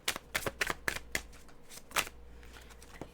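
Tarot cards are shuffled by hand in a quick run of crisp, soft riffling flicks, about a dozen close taps in uneven rhythm, fading toward the end, with no voice.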